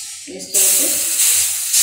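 Sabudana and bottle gourd thalipeeth sizzles on an oiled griddle with a loud, steady hiss that starts abruptly after a brief softer moment, continuing without talk.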